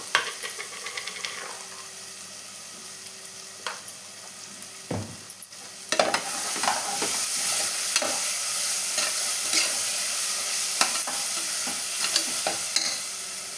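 Ginger and garlic sauté in a pan with a steady sizzle, stirred by a utensil that scrapes and taps repeatedly; the frying grows louder and denser after a brief pause midway.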